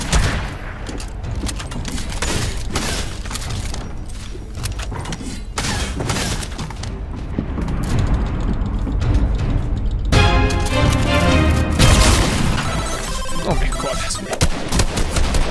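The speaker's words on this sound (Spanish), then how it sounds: "Me encanta cómo esta gente me mata con un pequeño rifle" Rifle fire in Fortnite crackles in repeated bursts and single shots, loud and close, with a ringing chime-like game effect in the latter part.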